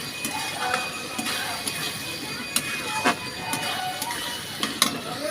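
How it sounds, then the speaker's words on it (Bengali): Vegetables with salt are stirred in a pan for a Bengali shukto, giving a faint sizzle under scattered scraping and clattering taps of the spoon against the pan. "লবণটা দিয়ে আবারও ভালোভাবে নাড়াচাড়া করে নেব আমি"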